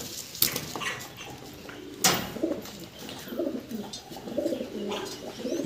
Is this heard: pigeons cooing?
yes